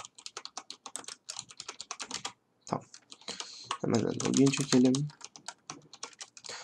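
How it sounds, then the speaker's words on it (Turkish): Clicky computer keyboard typing in quick bursts while logging into a game server, with someone talking over the keys and a denser run of keystrokes near the end. "Öncelikle klavyemden fazla ses gelebilir."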